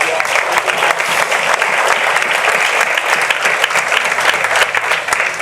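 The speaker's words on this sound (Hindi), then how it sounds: "प्रभु के लिए अच्छी ताली बजा सकते हैं हम।" Loud, continuous congregational applause at a Hindi-language church sermon, a thick roar of many clapping hands held steady throughout with faint voices mixed in.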